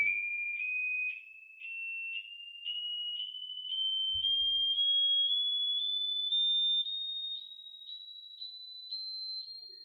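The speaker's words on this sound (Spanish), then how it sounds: "escuchamos ahí los diferentes tonos que se van dando" Test tones generated in MATLAB: a steady series of short, evenly spaced electronic beeps, each pulse a pure tone, rising gradually in pitch over about ten seconds, loud and alone apart from one faint click midway.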